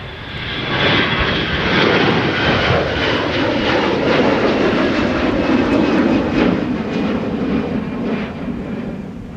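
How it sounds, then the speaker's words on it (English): Delta Airbus A321-200 jet departs from Minneapolis–St. Paul Airport, a broad, steady engine roar with a rising whine that swells loud and holds for several seconds before slowly easing, with no voices. "That was Delta Flight 1186 to Boston Logan International with an A321-200"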